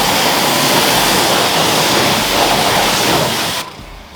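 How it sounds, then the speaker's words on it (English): A water hose sprays a steady, loud rinse over warm car wheels to knock off brake dust during a maintenance detail, rushing continuously before cutting off abruptly near the end. "I'm still gonna rinse them down first."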